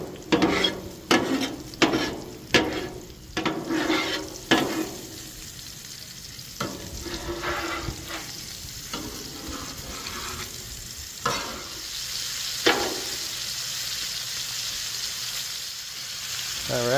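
Country fried steaks sizzle on a Blackstone griddle, opening with a few sharp spatula scrapes and clacks before settling into a steady, close frying hiss.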